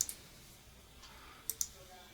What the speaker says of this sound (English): Just going to double click on the parts I need.